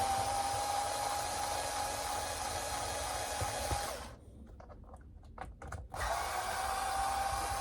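Screws driven out of a Traxxas Maxx V2 RC truck with a 2.5 millimeter power driver, a close steady whirring motor that stops briefly for a few quiet clicks, then whirs again.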